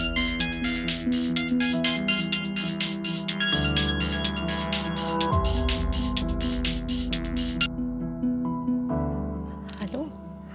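A mobile phone ringtone plays loud and close, a repeating melodic tune with bright electronic notes that cycles for several seconds before cutting off.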